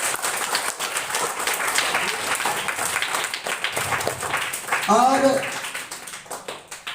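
Students at a school prize distribution clap loudly and steadily for a classmate, the dense patter running throughout beneath someone speaking over it.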